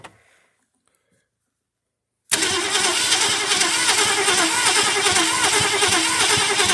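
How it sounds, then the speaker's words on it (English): An abandoned old Ford Fairlane pulled from a scrapyard, starting for the first time in 35 years: near silence, then the engine abruptly cranks and roars into a loud, steady churning run with no voices. "Hopefully first time in 35 or so years to see if we can get this thing cranking."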